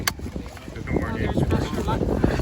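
Wind blows outdoors at a garage sale, a steady low rumbling buffet on the microphone that swells and holds after a brief click at the start.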